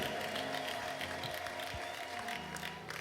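A church congregation claps and ululates in praise, a dense, steady wash of hand claps that holds throughout at moderate loudness with no speech over it.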